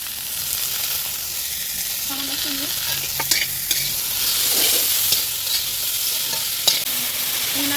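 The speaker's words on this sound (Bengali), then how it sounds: "তো সব সবজিগুলো ভেজে নেব বন্ধুরা" Vegetables fry in oil in a pan for fried rice, a steady loud sizzle throughout with occasional clinks and scrapes of stirring.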